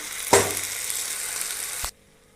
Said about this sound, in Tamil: கிளறிட்டு காமிக்கிறேன்